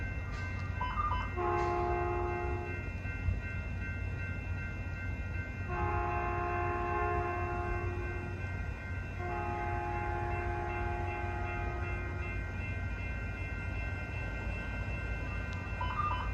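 Caltrain 500 series commuter trains pass with a steady rumble of wheels and engine, punctuated by three long, loud harmonic horn blasts near the start, middle and later stretch.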